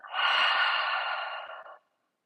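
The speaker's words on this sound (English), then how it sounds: "We'll take 3 deep breaths in through the nose and out of the mouth." One long, airy breath exhaled through the mouth during a calm yoga session, close and soft, rising quickly and fading out over about a second and a half.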